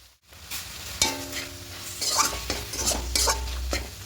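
Chicken is sautéed without oil in a pan and stirred, with a spoon scraping and clinking against the metal over a soft sizzle, in several close, uneven strokes.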